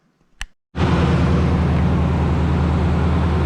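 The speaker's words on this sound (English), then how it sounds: "we got the truck running, as you can hear in the background" A truck engine, just fitted with a replacement radiator, idles after a brief faint knock, then a loud, steady rumble with a low droning hum holds without pause to the end.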